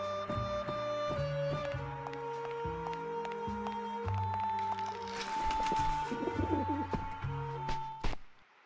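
Skeleton birds coo in the video game Grim Fandango Remastered, a run of soft, repeated calls woven into steady melodic game music that plays throughout without pause.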